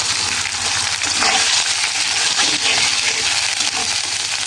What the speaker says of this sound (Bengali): তারপরে দেব শিং মাছ